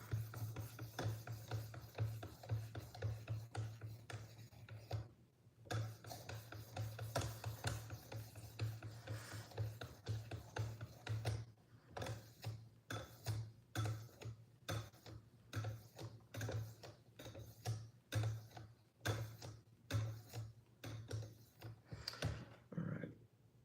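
A Benchmade knife is drawn across a whetstone in repeated rasping strokes, steady and continuous at first, then breaking into separate rhythmic scrapes after a short pause, close and fairly quiet over a low steady hum.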